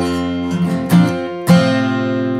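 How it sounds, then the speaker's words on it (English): Acoustic guitar in open D tuning: a single low plucked note on the fifth string, then two ringing downward strums that sustain and decay, played clearly and close with no talking. "if you pluck the 5th string and strum down towards the earth, that gives you the first two notes of this song"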